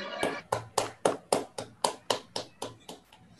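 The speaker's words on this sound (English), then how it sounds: "unmute yourself and thanks the speaker by clapping" Steady rhythmic clapping from listeners over a video call, about a dozen sharp claps in even succession, close and fairly loud with a slightly compressed, call-like quality.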